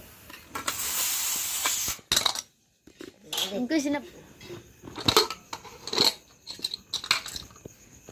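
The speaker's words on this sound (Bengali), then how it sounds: "প্রেশার কুকার খুলতে চাইলে এইভাবে সাইড দিয়ে একটু জল ছিটকে দিলেই কিন্তু সঙ্গে সঙ্গে খুলে যাবে" A pressure cooker is splashed with water on its side and opened, giving hissing steam bursts, metallic clinks and clatter of the lid, with someone talking between the sounds.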